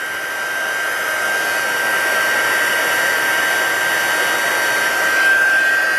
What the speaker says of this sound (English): This is my Stampin'Up embossing gun.